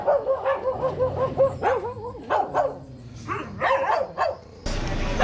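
Dogs at a crowded animal shelter bark repeatedly in quick, overlapping bursts with occasional yips and whimpers, fairly close and loud, with no talking.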